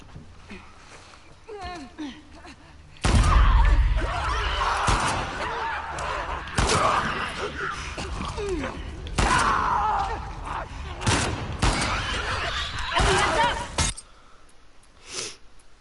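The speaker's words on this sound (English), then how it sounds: "That was a nice headshot" Gunfire in The Last of Us Part II, with a loud burst of shots and several sharp cracks spread over the game's noisy soundscape, and voices talking throughout.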